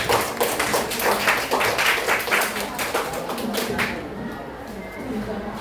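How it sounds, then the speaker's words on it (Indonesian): Classroom applause for a student group: a burst of many hands clapping, dense and lively, then tapering off into room noise with faint voices. "Beri tepuk tangan untuk kelompok belakang."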